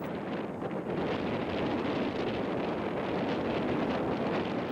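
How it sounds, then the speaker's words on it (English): Stiff, relentless wind blowing across open desert land in China, a steady broadband roar buffeting the microphone without a break. "Not even rocks can withstand the wind forever."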